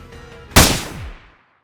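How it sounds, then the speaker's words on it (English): A single loud gunshot in the video game Night in the Woods, a sharp close crack followed by a booming tail that fades out within about a second. "After the initial gunshot"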